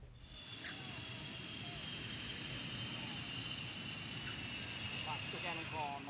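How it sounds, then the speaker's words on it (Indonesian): F-16 C and D fighter jets land at the Iswahyudi air force base in Magetan, East Java, filling the air with a steady, loud jet roar and hiss that holds throughout, with faint voices in the background. "akhirnya 5 unit pesawat F-16 tipe C dan D berhasil mendarat di lapangan udara TNI AU Iswah Yudi, Magetan, Jawa Timur"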